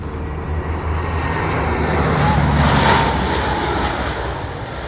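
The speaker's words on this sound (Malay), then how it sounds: "Ada satu kapal terbang tengah landing tu" An airplane comes in to land at the Kuantan air base open day, a loud roaring engine drone swelling toward a peak as it passes overhead and easing off at the end.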